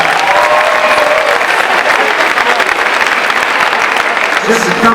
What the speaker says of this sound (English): everybody give yourselves one big round of applause there for roll call